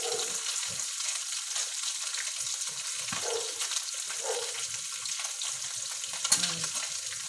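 Food fries in a pan with a continuous close sizzle and scattered crackles and pops, with a sharper spatter burst toward the end and no talk.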